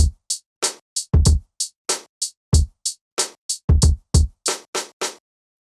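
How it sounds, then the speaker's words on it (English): Programmed drum pattern in Maschine with kick, snare and hi-hat played at fixed velocity: crisp, evenly loud hits in a steady groove, with punchy low kicks falling between bright, identical hat and snare strikes. "so I got a kick, snare, and hi-hat loaded into Maschine."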